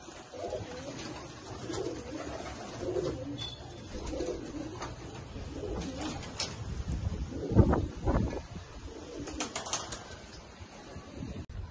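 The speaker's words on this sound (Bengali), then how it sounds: "এই যে দাদার উড়ানো পায়রার লফট" Pigeons coo in a loft in Hooghly, soft repeated throaty calls from several birds close by, with occasional wing flaps and light rustling in the background.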